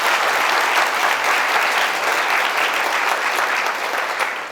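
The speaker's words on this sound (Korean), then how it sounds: "딴 데는 박수 치던데 여러분들 박수 쳐주세요." An audience of new firefighter recruits at a fire service academy lecture hall gives loud, sustained applause that stays dense and even throughout, then eases slightly near the end.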